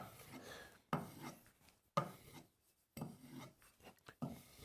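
Flat blade being sharpened on fine abrasive grits, rubbed back and forth in a steady raspy rhythm of about five strokes with short pauses between, close and moderately quiet with no talking.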